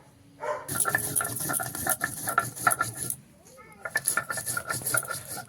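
Cumin and chili being ground for a kitchen spice paste, giving rough scraping and clattering strokes in uneven bursts with a short lull midway, under faint room noise.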